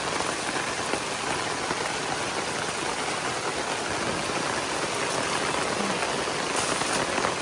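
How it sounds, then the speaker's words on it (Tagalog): Heavy rain pours down steadily at a park car-camping site, a dense, unbroken roar of drops hammering surfaces at constant loudness with no voices. "Wala pang 1 minute simula nung bumuhos ang ulan"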